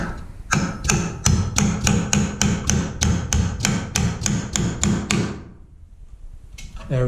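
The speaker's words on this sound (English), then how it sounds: "put it on the nail, and then you can hammer." Repeated hammer blows drive a nail while an electrical box is mounted to a stud during a school bus conversion, about fifteen sharp, evenly spaced strikes close up, then a pause and a faint final tap.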